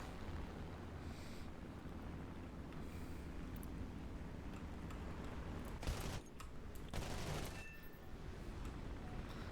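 Aircraft machine guns in a World War II flight combat game, a P-400 fighter: a long, low rumble of engine and wind, broken by a few short, sharp bursts of gunfire near the middle.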